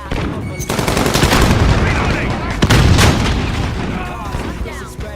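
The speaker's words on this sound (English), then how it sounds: "Grenade out." Loud video-game combat with booming blasts and sharp gunfire bursts, including a grenade going off, close and heavy with a couple of big impacts.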